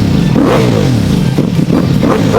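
Ducati Multistrada V4 Pikes Peak with a full-system Akrapovic exhaust revving hard nearby, a loud, continuous, raspy engine roar whose pitch sweeps up and down with the throttle.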